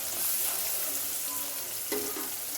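Mustard seeds, asafoetida, chopped onion and curry leaves sizzle steadily in hot oil as a tempering for ash gourd kootu, a continuous close frying hiss with a few brief crackles and no talk.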